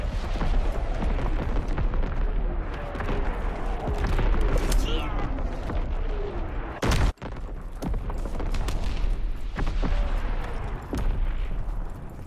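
An artillery battery firing in the World War II shooter Call of Duty: WWII, with repeated heavy booms and rumbling impacts under busy battlefield noise and voices, plus one sharp, loud blast near the middle.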